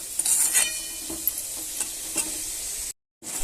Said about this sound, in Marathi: आता टॅमॅटो पण चांगला आपल्याला असं पैकी मऊ शिजून घ्यायचं त्याच्यामध्ये परतून घ्यायचं चांगलं